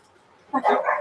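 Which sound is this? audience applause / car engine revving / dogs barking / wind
dogs barking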